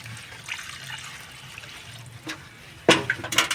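Fermented liquid made from calotropis plant and leftover rice is poured through a filter, starting as a faint trickle and ending in a louder splashing pour near the end.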